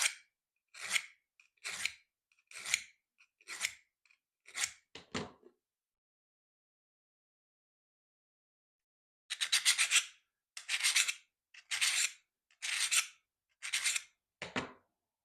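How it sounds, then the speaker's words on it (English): A hand file rasps a 45-degree angle on a steel cabinet scraper in crisp, evenly paced strokes, a run of about seven, then silence, then another run of about eight, close and clear with no talking. "you want to file that 45-degree angle on there"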